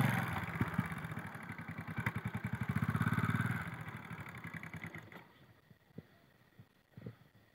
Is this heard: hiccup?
no